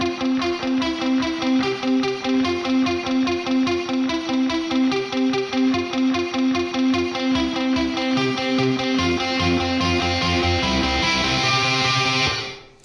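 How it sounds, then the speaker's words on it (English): A Les Paul electric guitar played through a Marshall JCM 800, heavily distorted and sent into a very bright room reverb, plays a loud sustained riff with repeated chugging notes, alone and without talk, before cutting off at the end. "this is a heavily distorted guitar. I think it's a Les Paul through a Marshall JCM 800"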